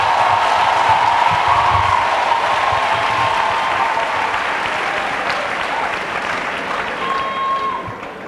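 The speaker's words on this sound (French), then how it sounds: "Et acclamons pour Jésus-Christ." Audience applauding in a French-speaking church gathering, a sustained, dense wash of clapping from many hands that stays steady and slowly fades a little over eight seconds.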